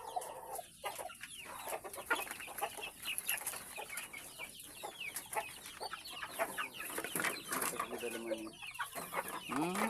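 A hen with a horn-like growth on its nose clucks in a run of short, close, irregular calls, with faint rooster-like cries mixed in and occasional quiet voices in the background.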